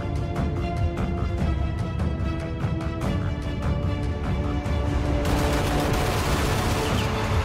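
A German Gepard self-propelled anti-aircraft gun, an armored all-weather vehicle, fires in rapid, dense bursts of loud cracking reports that run without pause, turning into a heavier continuous roar toward the end.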